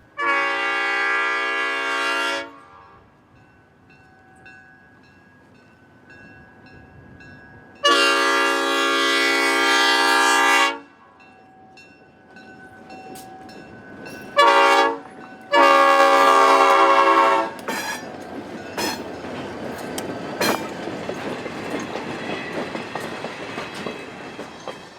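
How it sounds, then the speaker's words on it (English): An EMD F unit locomotive hauling freight sounds its Nathan P5A air horn in several loud chorded blasts: two long, then a short one and another long, followed by the rising rumble and rail clatter of the passing train. "a Nathan P5A air horn"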